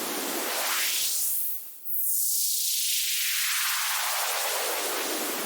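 A synthesized noise uplifter riser preset from Bass Forge, a wide filtered noise sweep that climbs steadily to a peak, drops out briefly, then falls away as a long downward sweep, loud and steady with no voices.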